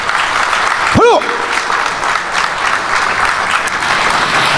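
An outdoor audience at a military Armed Forces Day ceremony applauds after a taekwondo demonstration, with steady, dense clapping throughout, a rising whistle-like sweep near the start and voices mixed in.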